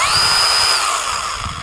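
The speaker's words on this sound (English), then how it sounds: "okay, and the chainsaw just starts." An Avhrit cordless mini chainsaw, part of a 2-in-1 pole saw kit, runs with a loud, steady high electric whine close by, briefly and alone.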